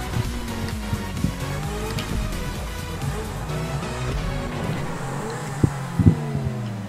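A car race in the video game GTA V Online, an extreme sky race played on Xbox One: a steady engine drone with tire squeals, then a few sharp thumps near the end.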